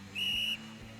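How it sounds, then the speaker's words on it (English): A coach's whistle gives one loud, sharp blast of about half a second, shrill and steady, then stops abruptly, leaving a quiet low room hum. "With a violently loud blow of his whistle, the coach also takes his position to show the proper technique."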